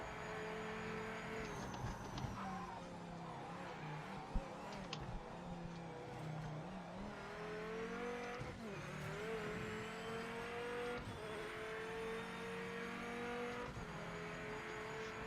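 Viper race car engine in the Project Motor Racing video game, a steady loud drone with rising and falling revs through gear shifts and brief tire squeal, continuous throughout.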